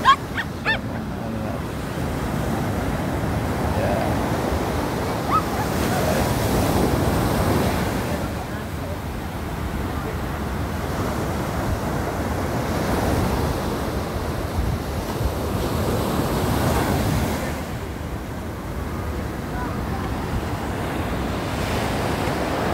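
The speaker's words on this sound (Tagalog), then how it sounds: "Grabe yung mga waves. Ayan. Mga alon." Ocean surf at the San Juan, La Union surf beach in the Philippines in the afternoon, waves rolling and crashing in slow repeated swells with gusty wind noise on the microphone, loud and close.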